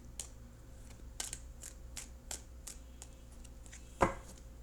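Tarot cards are handled and shuffled by hand, giving crisp, separate snapping clicks at loose, uneven intervals over a low steady hum, with one louder slap of the deck near the end; no one speaks.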